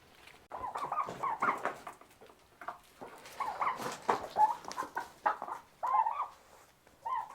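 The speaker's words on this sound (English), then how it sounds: "The turkey bird's in here." Turkeys in a barn gobble and cluck in repeated bursts with gaps between them. The calls come at moderate distance and stand alone without talk.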